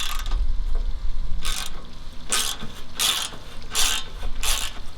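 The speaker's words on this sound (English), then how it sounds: "we're gonna go ahead and take this bolt off and over there so we can get this completely loose" A ratchet wrench loosens a bolt on a lawn mower, giving a close, loud series of rapid metallic clicking bursts in an uneven rhythm, about six strokes with brief pauses.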